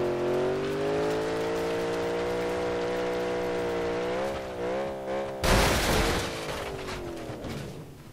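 A car in BeamNG.drive rolls along on its own with no front wheels, its engine droning steadily in layered tones before a sudden loud burst of crashing noise near the end that fades out.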